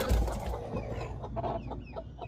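Roosters and hens cluck while being let out of a transport crate after a road trip to a farm. Repeated close, moderately loud calls overlap in a busy cluster with no speech.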